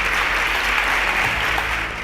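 An audience applauds a team of student contestants at a televised quiz show, giving a short, dense, steady burst of clapping that holds at an even level throughout.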